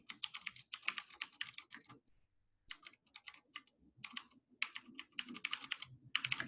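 Notes are typed on a computer keyboard in quick bursts of crisp, close key clicks, broken by a pause of about a second and shorter gaps, with no voices.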